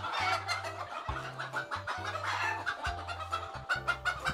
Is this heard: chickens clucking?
yes